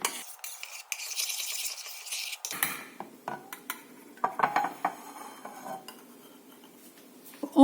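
A utensil stirs a chocolate mousse mixture with cream in a bowl, giving irregular scraping and clinking taps against the bowl, quiet and close, with a brief hissy stretch at the start.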